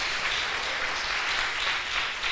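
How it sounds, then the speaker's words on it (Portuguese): A church congregation applauds in praise during a Portuguese-language worship service, producing a steady, continuous roar of clapping at moderate distance with no talk over it. "Vamos aplaudir o nome do Senhor."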